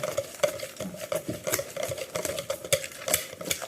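Tart dough being stirred in a bowl with a utensil, producing steady, close scraping and tapping strokes in an irregular rhythm, with no voices.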